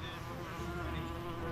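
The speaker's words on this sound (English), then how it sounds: "They got no honey. God, these bees." Bees buzzing in the virtual game world VRChat, a quiet continuous insect drone that holds steady for a brief moment with no speech over it.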